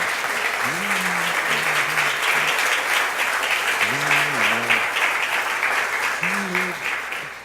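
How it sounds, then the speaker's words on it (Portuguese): A church congregation applauding during an evening worship service, a steady, full wash of clapping that lasts the whole stretch while a voice speaks over it from time to time. "eu queria que você aplaudisse e glorificasse o nome do Senhor"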